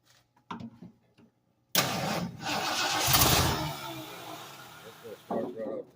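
A 1971 Ford LTD engine cranked by crossing the starter solenoid with a screwdriver: after a couple of short clicks it bursts into a loud close-up crank and catch, then settles into a rough, hissy idle with brief bits of talk.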